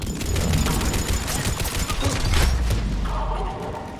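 Dense battle gunfire from the video game Mass Effect 3 rattles in overlapping bursts and fusillades, loud and continuous, with heavy thumps underneath and a distant voice briefly audible.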